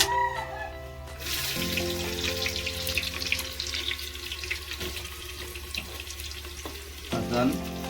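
Onions frying in a clay pot of desi goat meat curry, a steady loud hiss and sizzle that starts suddenly as they hit the hot oil and keeps going under a faint background hum.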